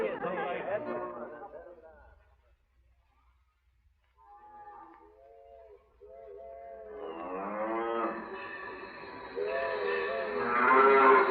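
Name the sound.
cattle mooing and herded, radio drama sound effect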